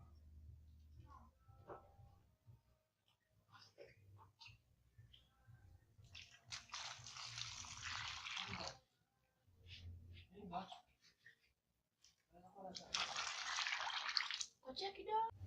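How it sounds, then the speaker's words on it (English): Water pours in two steady rushing bursts, close by, separated by quieter stretches with faint voices and handling noises. "Let me just put some water."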